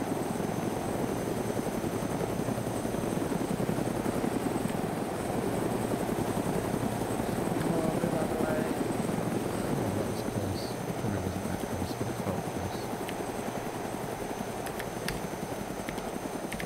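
Helicopter rotor and engine drone in the DayZ video game, a steady loud continuous whir with rapid rotor chop, holding constant throughout with no speech.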